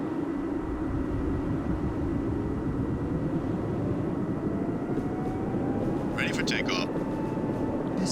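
Video game aircraft engines drone steadily with a rising turbine whine as the turbines start up, loud and continuous, while a few brief clicks sound near the end.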